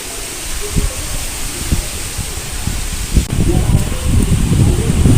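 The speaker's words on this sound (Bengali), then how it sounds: "অনেকটা জোরেই হাওয়া হচ্ছে" Strong Kalbaishakhi (nor'wester) storm wind roars and rushes steadily, with coconut palm leaves and branches rustling and gusts swelling toward the end.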